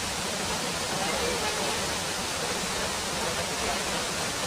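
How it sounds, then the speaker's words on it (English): Neturlim waterfall in Goa roars as a loud, steady, unbroken rush of falling water close by, with no other sounds standing out. "I'm here at a waterfall in Goa called Neturlim Waterfalls."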